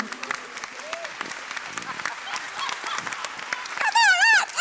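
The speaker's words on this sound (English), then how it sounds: "Ladies and gentlemen, please applaud the greatest healthcare walker in the room." A debate audience applauds in a hall, the clapping running beneath a speaking voice, then ending with a loud, wavering honk-like tone.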